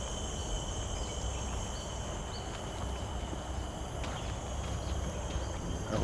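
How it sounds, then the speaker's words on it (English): Cicadas in jungle greenery in Singapore, a steady high-pitched drone with sustained tonal bands holding throughout, over a dense background hiss and faint scattered ticks, with no talking. "These are cicadas, but some really different cicadas."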